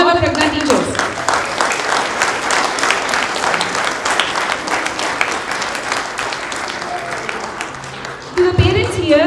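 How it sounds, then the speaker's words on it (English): Sustained applause from a large audience at a school annual event honouring Prajna teachers: dense, even clapping fills nearly the whole stretch, fading briefly near the end before a short burst. "Let's give a big round of applause to all our Prajna teachers."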